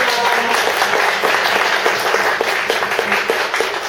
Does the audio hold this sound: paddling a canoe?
no